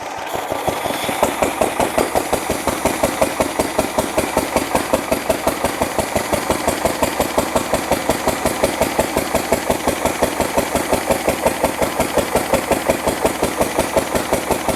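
A Fowler PA1 engine runs steadily with a fast, even knocking beat that carries close and loud throughout, with no voices.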